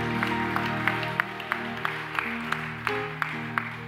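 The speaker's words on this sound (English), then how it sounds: "Give God a mighty hand clap." A church congregation claps hands in a steady rhythmic beat over music during a service, the sharp claps evenly spaced and moderately loud.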